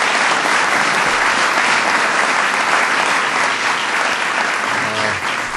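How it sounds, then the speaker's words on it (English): Crowd at a White House event honoring a NASCAR champion delivers loud, dense, continuous applause for General Ray Odierno, close and sustained, fading slightly at the end. "So please give him a big round of applause."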